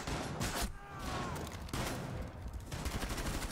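Rapid automatic gunfire in a video game, with short bursts of shots that come and go at a moderate, somewhat distant level.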